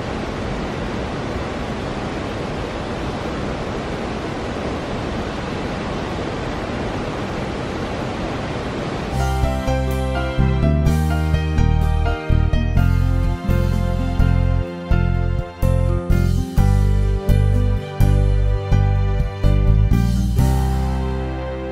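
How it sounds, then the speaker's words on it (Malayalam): Attukad waterfall in the Shola forest near Marayoor pours with a loud, steady, broadband roar for about nine seconds before music replaces it. "കുറച്ച് നേരം ആ വെള്ളച്ചാട്ടത്തിൻ്റെ അവിടെ ചിലവഴിച്ചു"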